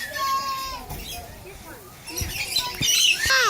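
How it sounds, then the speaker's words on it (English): Birds squawk and chirp at an animal park where kangaroos are kept, giving scattered rising calls and brief squawks that grow busier and louder toward the end, with voices in the background. "Look at all the birds."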